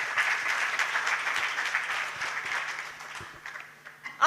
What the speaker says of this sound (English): May I ask for a round of applause for the keynote speaker.